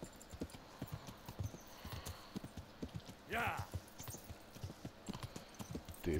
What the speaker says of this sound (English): Riding horse through town.